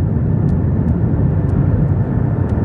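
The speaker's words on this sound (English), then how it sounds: "Flight 52 is instructed to fly a long approach pattern for another landing attempt." Avianca Flight 52 airliner flying a long approach pattern, low fuel: a steady, loud, broadband engine roar that stays constant throughout, with no talk.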